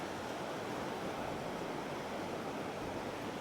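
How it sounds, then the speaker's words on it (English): Choppy ocean surf at Bang Niang Beach in Khao Lak, Thailand, an open shore of coarse brown sand and bits of coral, makes a steady, dense, wash-like roar with no breaks and no voices. "You get a little bit more waves coming in."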